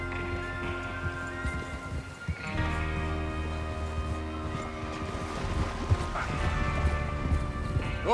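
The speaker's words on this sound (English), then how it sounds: "Get your horses ready." Horses trot in Red Dead Redemption 2, a steady clip-clop of hooves carrying on throughout, moderately loud beneath sustained musical tones.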